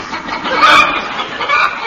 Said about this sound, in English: We rode in silence, save for the odd noises camels are wont to make.